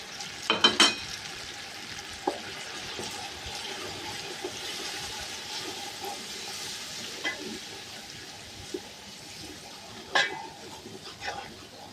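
Onions and tomatoes fry in a pan with a soft, continuous sizzle, broken by a few sharp clatters and scrapes of stirring, heard fairly faint and close.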